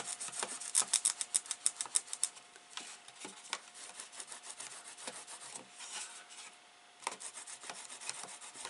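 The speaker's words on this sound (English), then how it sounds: "burnish them while they're on a flat" Paper pieces for an exploding gift box being burnished flat on a work surface, a close, steady rasping rub with repeated short strokes in uneven rhythm, with no talking.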